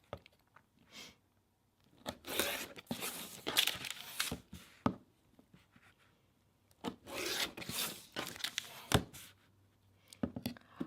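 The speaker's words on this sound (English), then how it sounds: "Using my rotary cutter and ruler, I'm going to trim on the dotted line" Rotary cutter and ruler trimming the edges of a paper-pieced quilt tree block, giving bursts of rasping, scraping cuts through paper and fabric, with quiet pauses between passes and no voices.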